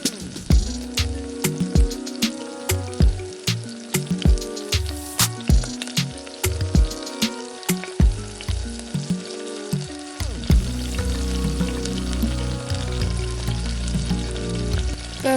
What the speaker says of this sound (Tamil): இதே மாதிரியே நம்ம கட் பண்ணி வச்ச எல்லா பூரியும் போட்டு எடுத்துக்கலாங்க எண்ணெயில்.